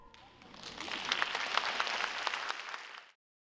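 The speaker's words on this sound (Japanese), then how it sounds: "今回は商売上手と題した歌劇が披露され、観客から大きな拍手が送られました" An audience at a community concert applauds after an original operetta, the clapping swelling from a light start into a dense, sustained round and then stopping abruptly.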